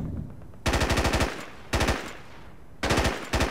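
Bursts of rapid automatic gunfire from the SOCOM 3 U.S. Navy SEALs video game, three loud volleys of closely spaced shots separated by short pauses, with no talking over them.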